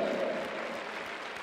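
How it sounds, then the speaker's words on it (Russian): Applause fills an ice arena during a figure skating exhibition gala in Minsk, a brief, even stretch of many hands clapping heard from within the crowd, steady and moderately loud. "Ваши аплодисменты, обладатели четвертого места."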